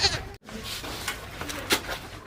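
A goat bleats steadily in a rural village setting, a close, loud, continuous nasal call with a brief break near the start and rising bursts later.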